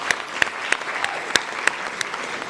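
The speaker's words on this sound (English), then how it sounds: "We can clap for that, for sure." Sparse applause from an audience at a high school varsity award ceremony, a handful of distinct claps spaced irregularly over a soft murmur, fairly quiet and slightly distant.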